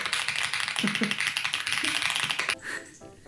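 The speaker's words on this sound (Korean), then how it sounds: "키보드를 하나 샀거든요. 좀 시끄럽네요." Rapid, clacky keystrokes rattle from a nearby mechanical keyboard in a quick, uneven stream, then stop abruptly, leaving faint background sounds.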